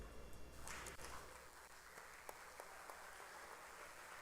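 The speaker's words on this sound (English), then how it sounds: "Yeah, a soft round of applause" Lawmakers in a House chamber give a soft, scattered round of applause after a bill passes in the early morning, quiet, sparse claps over a hushed room murmur, with a louder burst at the very start.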